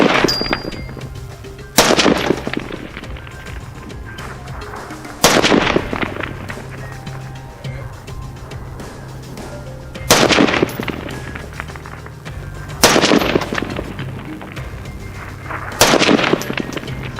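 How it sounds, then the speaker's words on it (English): Gunshots ring out while a rifle is being zeroed, five loud single reports spaced a few seconds apart, each a sharp crack with a short decaying tail over a steady low background hum. "I'm shooting low."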